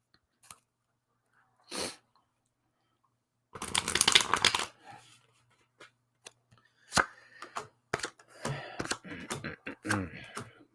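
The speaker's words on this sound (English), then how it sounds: "let's just throw some cards down for it" Playing cards being riffled and tossed down in a few short, crisp bursts of shuffling, with quiet gaps between them and some rustle and handling noise.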